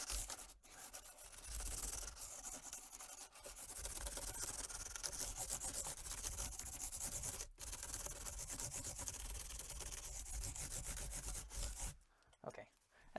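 Fine 600-grit sandpaper rubbed along the filed edge of a cracked Washburn guitar, giving a steady close scratchy rubbing that runs almost without pause, broken by a few brief gaps.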